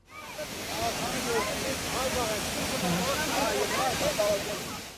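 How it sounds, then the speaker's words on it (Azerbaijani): The Qalabin waterfall, dropping about 70 metres, gives a steady broadband roar like rushing water that swells in and holds, with a voice speaking over it. "Qələbin şəlaləsi bütün əzəməti ilə qarşımızdadır"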